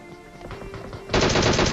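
Burst of rapid automatic gunfire in the video game PUBG, loud and dense, erupting after a brief stretch of quieter game ambience and running to the end.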